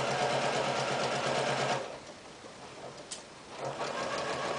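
A sewing machine runs steadily while stitching a center front seam along the 5/8 inch line for a rolled collar garment, loud and continuous, then pauses for about two seconds and starts running again.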